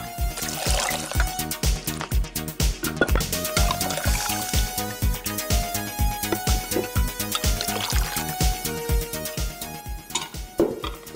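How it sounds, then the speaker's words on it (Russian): Water is drained from a jar of pickling cucumbers as a steady, loud trickle that pours on without a break, with faint clinks of kitchenware beneath. "девочки, сливаем водичку."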